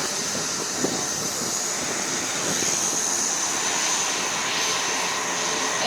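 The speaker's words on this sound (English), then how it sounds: "I'll let the plane taxi by." An airplane taxis past at an airshow, a steady droning engine roar at moderate distance that swells slightly midway and holds, with no talking.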